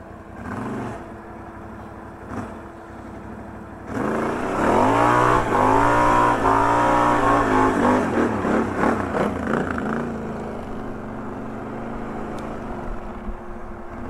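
A tuned car engine with a new ignition map and limiters removed revs up loudly with a rising, sustained roar for several seconds, then drops back to a steady idle.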